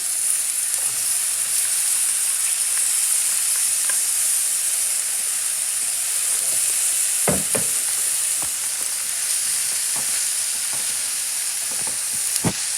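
Red cabbage sizzles loudly in a hot pan, a dense steady frying hiss close up, broken by a few sharp clacks of a utensil against the pan.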